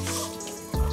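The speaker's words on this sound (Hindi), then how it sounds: "अभी हाथ धोना पड़ेगा" Running water splashing over hands at a tap with turmeric-stained fingers, a steady close trickle that swells louder toward the end.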